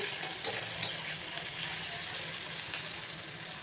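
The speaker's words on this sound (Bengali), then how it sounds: "হলুদ গুঁড়ো দিয়ে দিচ্ছি, স্বাদ অনুসারে লবণ দিয়ে দিচ্ছি। এখন একটু কষিয়ে নেব।" Spices with turmeric powder and salt sautéing in a pan, a soft, even sizzle with faint stirring scrapes, quiet and close, no voices.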